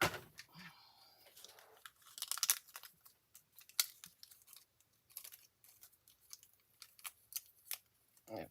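Paper card pieces cut out with scissors for a folded card, giving a run of sharp snips and crinkly paper rustles, close and fairly quiet, with no talking.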